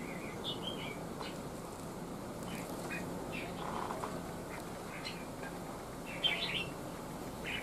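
A caged red-whiskered bulbul (chào mào) songbird gives scattered short chirps and whistles, faint against steady background noise, with no voices.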